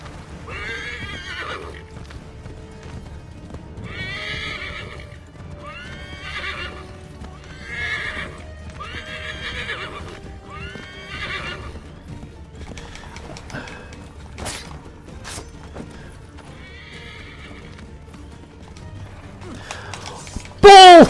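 Several horse neighs and whinnies repeat over steady hoofbeats in Assassin's Creed 3, with a few sharp clicks and a brief loud burst at the very end.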